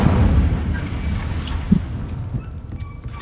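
A fire spell, Incendio, cast in Hogwarts Legacy: a booming, fiery burst with low rumbling bursts and a few sharp pops, heard alone at steady loudness.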